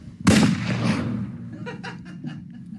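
A voices a mouth-made gunshot imitation, one loud burst at the start trailing off into a rough decay, followed by a few faint, scattered sounds.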